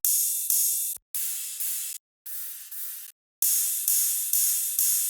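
Bright, hissing progressive-house ride cymbals, three layered, in steady rhythmic strikes, with soft low kick thumps at intervals and brief gaps of silence between phrases.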